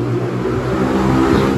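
A motorcycle with an open exhaust pipe runs close by, a loud continuous engine roar with rising revs through the short stretch and no talk over it.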